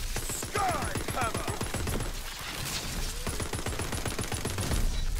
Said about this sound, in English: And that shotgun just melts people